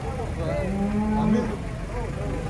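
A large, heavy pregnant cow gives one drawn-out low moo close by while being unloaded from a truck, over a background hum of outdoor noise.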